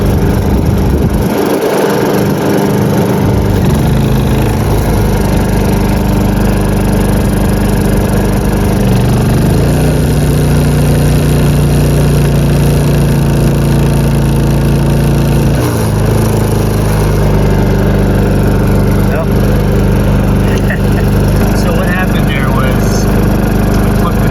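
A portable generator running loud and close as it starts a 15,000 BTU air conditioner fitted with a soft starter, the steady engine drone dipping and shifting in tone as the load kicks in, with no talk over it.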